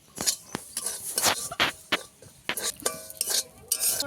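Semolina being stirred and fried in a wok, a utensil scraping and clinking against the metal in repeated strokes close up, with a faint sizzle underneath.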